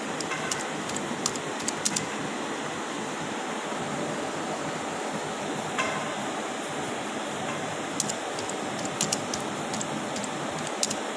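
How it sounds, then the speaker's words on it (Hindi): Scattered light clicks of computer keyboard typing come in short clusters near the start and again later. They sit over a constant broad hiss of background noise. "अब मैं कुछ भी टाइप करूँगी"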